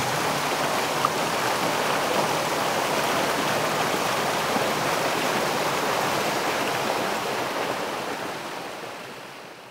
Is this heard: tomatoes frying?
no